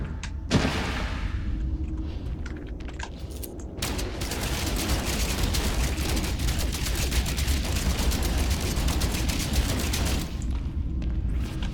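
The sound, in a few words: weapon gunfire in the video game No Man's Sky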